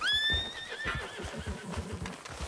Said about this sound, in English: I do want to let the horses go, because the horses did nothing wrong.